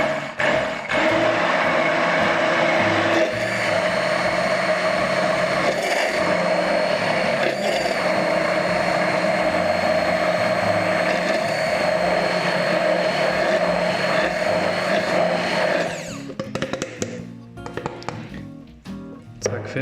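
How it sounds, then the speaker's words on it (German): A kitchen blender whirs steadily at high speed, emulsifying a classic salad dressing, its motor drone loud and continuous for about sixteen seconds before cutting off abruptly into quieter clatter. "Um die perfekte Emulsion zu haben, nehme ich gerne den Mixer her"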